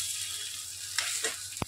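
Sabudana khichdi with crushed peanuts being mixed in a pan, a quiet low sizzle under a couple of soft scraping stirs and a brief clink near the end.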